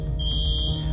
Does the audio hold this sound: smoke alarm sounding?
yes